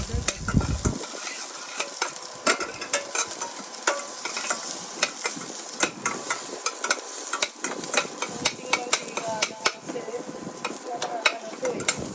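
Garlic frying in a pan for chicken tinola, a steady crackling sizzle close up with frequent scrapes and taps of a spoon or spatula stirring the pan.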